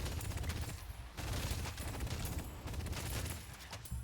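Rapid bursts of gunfire fill a Deadlock match as shots cross the map, a dense, continuous rattle of fast volleys with a brief lull partway through.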